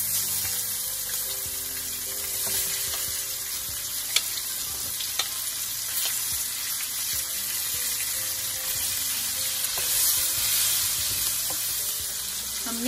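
Roughly chopped onions sizzle steadily in a hot pan, added after ajwain has been roasted for a malai kofta gravy, with a constant close frying hiss and a few faint clicks of a spoon.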